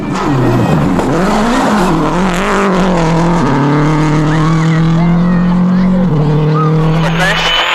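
A 2006 Subaru rally car races along a gravel stage at WRC Rally Mexico, its engine loud and close, rising and dropping with gear changes and throttle, while a co-driver's pace notes and commentary run throughout.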